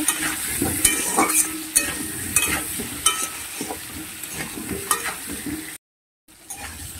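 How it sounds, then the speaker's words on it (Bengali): Potatoes with a little turmeric frying in oil make a loud, crackling sizzle with repeated spatula scrapes and knocks, briefly cutting to silence near the end. "দিয়ে আলুগুলোকে খুব ভালোভাবে ভেজে নেব"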